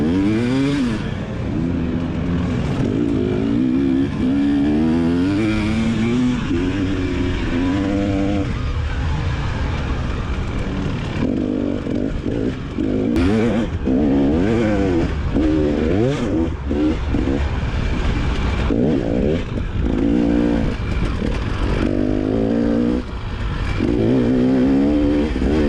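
Motorcycles racing on a dirt track at a gun range, engines revving and shifting continuously at close range, with several bikes layered together in a loud, sustained roar.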